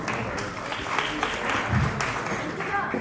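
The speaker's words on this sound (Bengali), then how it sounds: "একটা জোরে হাততালি ঝুলন্দির জন্য" Audience applause for an actress on stage at the Boomerang movie trailer launch: dense, steady crowd clapping lasting throughout, mixed with background voices.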